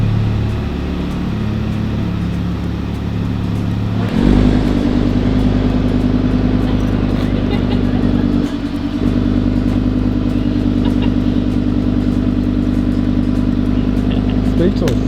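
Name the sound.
Audi R8 sports car engine driving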